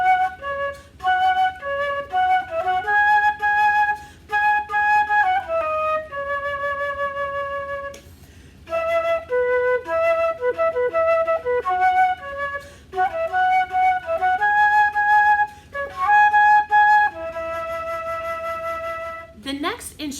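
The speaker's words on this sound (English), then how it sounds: "The flute sounds like this." A flute plays a slow melody of clear sustained tones, stepping between high and low pitches in phrases with brief pauses, loud and close, with no talking.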